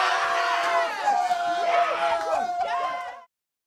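Football fans roar and shout after a goal at the 2014 World Cup, a dense crowd cheer with whoops that carries on loud and steady before cutting off abruptly.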